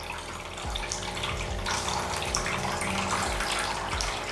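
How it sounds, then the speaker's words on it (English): Steady splashing and running water inside a drink dispenser, continuous and fairly loud throughout, churning within the container over a low mechanical hum. "It's splashing a little bit."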